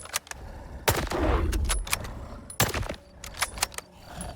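Several sharp gunshot bursts from a video game rifle in STALKER 2 crack out in quick succession, loud and close, with a low rumble between the shots and short gaps of quiet.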